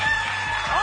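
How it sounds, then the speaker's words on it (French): A rooster crows as a game show sound effect on a French television egg-hunt show, a bright sustained cock-a-doodle call laid over dense studio noise and overlapping voices. "Le coq a même chanté"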